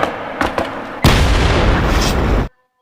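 A loud explosion in a drama film: a couple of sharp thumps, then a sustained roaring blast that rumbles for about a second and a half before cutting off abruptly into silence.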